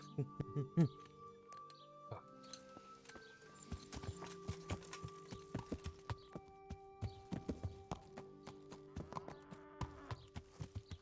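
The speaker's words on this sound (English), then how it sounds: "Look at that majestic steed." Horse hooves clip-clop in the medieval game Kingdom Come: Deliverance, a quick, uneven trot of sharp knocks that goes on for the whole stretch. A faint buzz of insects runs underneath and a brief voice comes in near the start.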